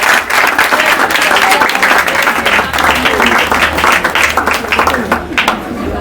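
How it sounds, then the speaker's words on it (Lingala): An audience at a public gathering applauds loudly and continuously, dense clapping from a crowd that sustains for several seconds. "Est-ce qu'on peut applaudir?"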